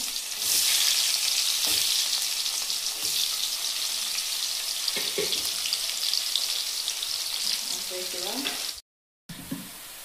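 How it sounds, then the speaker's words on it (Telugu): Onions fry in hot oil in a pan, giving a continuous bright sizzle with occasional stirring knocks; the sizzle cuts out briefly near the end, then resumes. "కొంచెం ఉల్లిపాయలు వేస్తున్నా"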